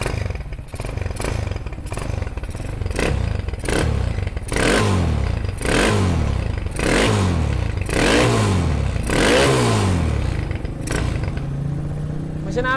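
A Honda CB motorcycle with its original GL exhaust and a smooth-running engine, revved in about ten close, punchy blips that rise and fall in a loose rhythm.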